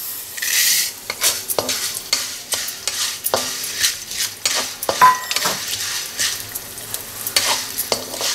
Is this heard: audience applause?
no